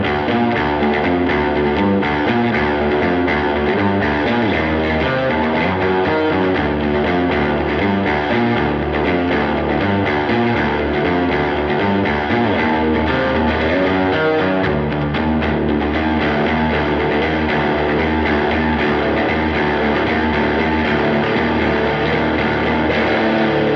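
A Squier Jaguar short-scale electric guitar with thick strings plays through distortion continuously, loud and thick, with chords and riffs and no pauses.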